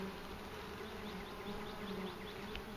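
Honeybees drone in a steady, dense buzz from a top bar hive opened for inspection, loud and continuous with no talk over it.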